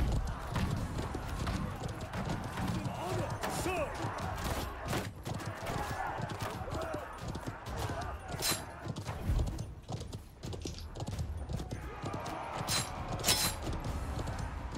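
Horses gallop in a video game field battle, a dense, continuous drumming of many hooves with occasional clashes and distant combat noise, steady and fairly loud throughout.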